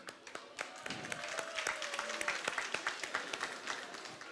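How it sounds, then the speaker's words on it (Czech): A festival crowd applauds steadily, many hands clapping at once in a dense, moderately distant patter that holds for a few seconds. "Prosím o potlesk."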